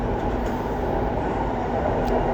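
Steady rumble of a metro train in motion, a continuous low roar and rattle with no voices, heard from inside the carriage.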